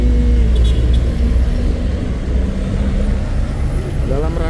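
A Hino box truck rumbles along a hill road at Bukit Kodok, its heavy, low engine noise loud and near as it drives past, with a faint hiss at the start.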